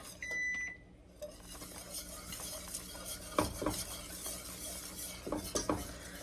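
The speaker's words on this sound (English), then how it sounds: "Give that a stir" A spoon stirs freshly grated Parmesan cheese into a cooking pot, quiet scraping and clinks against the pot, with a short electronic beep near the start and a few louder knocks later.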